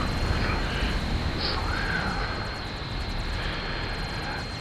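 Scout plane engines from the strategy game Supreme Commander: Forged Alliance form a steady, broad droning roar that holds at an even level throughout, with no talk over it.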